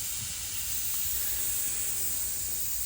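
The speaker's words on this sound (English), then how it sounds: "Got a tiny little steam leak around a manometer." Steam hissing from a small leak around the pressure gauge of a restored Doll 364 model steam engine on its first test run, a steady, continuous hiss, close and moderately loud, with no voices.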